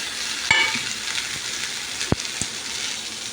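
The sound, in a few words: peanuts and coriander leaves frying in a pan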